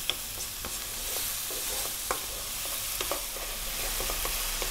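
Chopped tomatoes fry over high heat in a pan, a steady close sizzle broken by scattered sharp clicks and scrapes of stirring.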